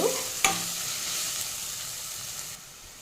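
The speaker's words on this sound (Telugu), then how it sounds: "ఇప్పుడు కరివేపాకు యాడ్ చేస్తూ ఉన్నాను" Curry leaves dropped into hot oil crackle and burst at the start, then settle into a loud steady sizzle that fades slightly toward the end.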